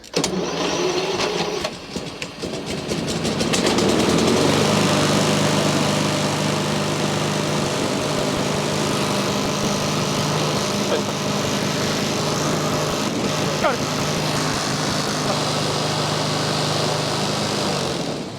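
A lawn mower's small gasoline engine sputters, then catches and runs steadily with a loud, buzzing drone close by.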